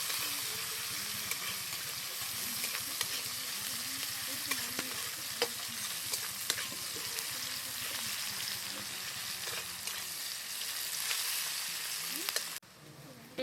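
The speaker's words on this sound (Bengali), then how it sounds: "পেঁয়াজটাকে হালকা বাদামি করে ভেজে নেব" Chopped onion frying in leftover fish-frying oil on a village kitchen stove, turning light brown: a steady close oil sizzle with scattered stir clicks and scrapes that runs throughout and cuts off sharply at the end.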